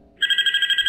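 Telephone ringing in the FNAF horror video game, a bright electronic trill starting abruptly and pulsing in a rapid steady rhythm, loud and alone.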